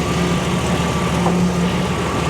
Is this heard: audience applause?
no